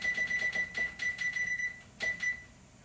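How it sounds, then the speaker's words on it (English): A timer beeps in a rapid, evenly spaced series of high electronic tones, then two more after a short pause, over faint background hum. "let's put this on my timer"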